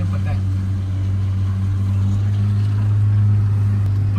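A Maruti Jimny in four-wheel-drive low climbs uphill through heavy snow, its engine a steady, loud, low drone that holds even throughout.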